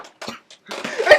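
Several short, harsh coughs burst out in quick succession close by, separated by brief silences, with a rougher, louder cough fit at the end.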